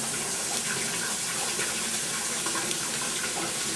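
Water running from a kitchen tap, a steady broad rushing stream at moderate loudness, unbroken and alone for the whole stretch.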